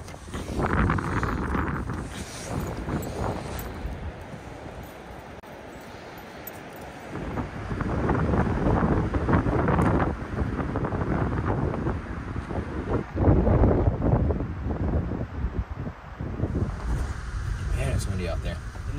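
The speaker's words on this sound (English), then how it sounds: "We'll see how windy it is out there." Strong wind outside a camping truck buffets the microphone in heavy, roaring gusts for the whole stretch, with a brief lull before it surges back louder.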